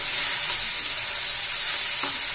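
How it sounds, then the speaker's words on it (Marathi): Bean vegetables sauté in hot oil with cumin and mustard seeds, giving a steady, loud hiss of sizzling up close with no speech. "असं तेलात भाजी परतली ना तर खूप छान भाजीचं पण टेस्ट येते"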